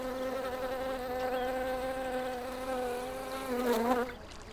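Bees buzzing near a mountain stream in Turkey, a steady close insect drone with a rising, wavering pitch near the end before fading, heard alone without talk.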